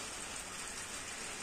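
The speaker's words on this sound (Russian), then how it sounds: "Гром гремит, дождик вот начинается." Rain begins falling over a garden plot during a thunderstorm. It makes a soft, even, broadband hiss throughout, fairly faint, with no voices.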